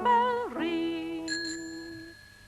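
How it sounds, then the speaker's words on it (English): A child's bicycle bell rings with clear metallic tones that bend and then settle into sustained ringing with a brighter second strike, loud and close with no speech. "You can hear his bell ring."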